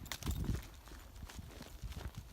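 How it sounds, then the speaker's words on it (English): Soft, uneven hoof falls of a horse being led around in a circle on a shank during training, faint and muffled with a loose walking rhythm. "let her just take these soft steps around in the circle"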